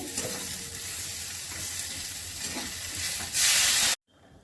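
Spice paste with cumin powder frying in a pan for a rohu fish curry with potato and cauliflower, giving a steady close sizzle with soft stirring scrapes that swells into a louder burst before cutting off abruptly.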